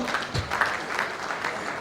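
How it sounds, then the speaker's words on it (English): Scattered hand claps from an audience at a book launch, moderately loud and steady for a couple of seconds, with no talking over them. "Let's give a hand clap for them."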